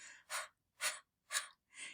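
A voice imitates a dog's panting with four quick, breathy puffs of air spaced evenly apart, with silence between them.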